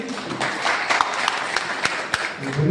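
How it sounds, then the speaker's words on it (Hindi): Audience at a Hindi-language event honoring journalists claps, a dense wash of applause with a few louder individual claps standing out, fairly close and continuous throughout. "तो एक बार जोरदार तालियां।"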